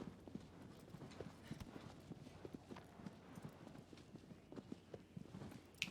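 Horse hooves clip-clop steadily on the ground in the video game Shadow of the Colossus, a continuous walking rhythm of soft close thuds over faint ambient background.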